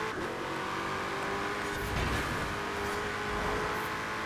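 A Koenigsegg engine races in the video game Forza Horizon 4, a sustained, steady drone with a faint tire scuff midway, moderately loud and alone.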